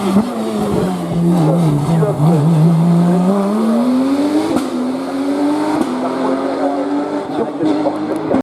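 A Porsche 991 GT3 Cup race car at a hill climb, its engine note rising steadily as it accelerates through the gears, loud and close with a sharp shift partway through.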